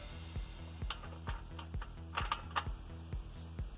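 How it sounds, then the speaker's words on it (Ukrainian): Bearing puller worked on a bicycle bottom bracket cup, giving a quick metallic ratcheting rhythm of evenly spaced clicks, close and clear, with no talking. "Для цього будемо використовувати ось такий сйомничок"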